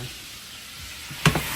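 Butter browns in a pan with a soft, continuous sizzle up close, then a spoon clatters once against the pan as it is stirred.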